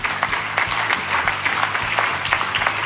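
An audience claps in steady, sustained applause at a political speech event, dense and continuous crowd clapping with no talk over it.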